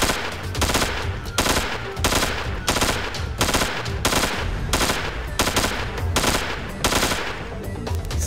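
Rapid bursts of AK-42 rifle fire from a bug-hunting shooter, Organosphere, sharp repeated shots in steady clusters about every half second, loud and close, with no talk over them.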